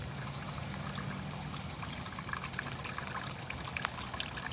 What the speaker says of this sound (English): So that drain's doing its thing. It runs off onto a dry well there.